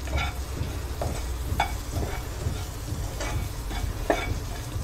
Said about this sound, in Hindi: धनिया के पत्ते और इन सभी चीज़ों को हम मिक्स करेंगे।